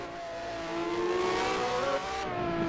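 A time attack race car accelerates down the back straight at a racing circuit, its engine note climbing steadily and heard from some distance, moderately loud, with no talk over it.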